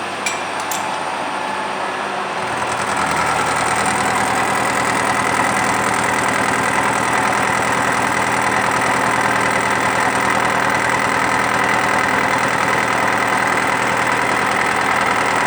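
A metal lathe starts up and runs steadily while cutting a workpiece, a constant loud mechanical hum with a fine whining tone that holds evenly after the motor comes up to speed.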